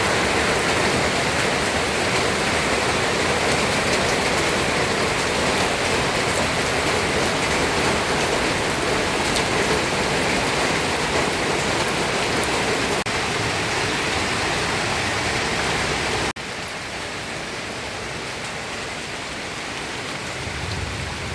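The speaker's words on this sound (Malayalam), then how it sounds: "മഴയെന്ന് പറഞ്ഞാൽ നല്ല സൂപ്പർ മഴ കേട്ടോ" Heavy monsoon rain pours nonstop in a loud, dense hiss on surfaces, easing slightly toward the end but still falling steadily.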